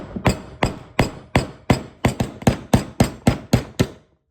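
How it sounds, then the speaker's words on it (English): A steel punch struck with a hammer to drive a roll pin out of a Taurus Model 856 revolver resting on a block: about a dozen sharp, evenly spaced metallic blows, close and loud, with no talk. "literally all you're going to do is hammer it through"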